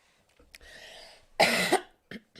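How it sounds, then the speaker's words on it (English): A single harsh, close cough bursts out after a brief breathy throat sound, followed by a short exhale. "I'm just going to cough in your face"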